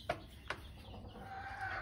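Polish and Silkie chickens with a rooster give a couple of sharp, abrupt clucks early on, then a longer drawn-out call, close and moderately loud inside a hatching and breeding pen.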